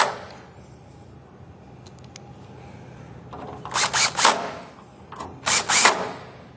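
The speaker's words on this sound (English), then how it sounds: "go ahead and attach all four with 4 screws into the pre-drilled holes" A power drill drives screws into pre-drilled holes to attach furniture feet, giving two pairs of short whirring bursts in the second half after quiet handling clicks.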